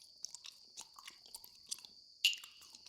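A creature in a horror video game chews, heard as faint, close, irregular wet crunches and bites repeating over a steady high electronic whine, ending with one louder crunch; no speech.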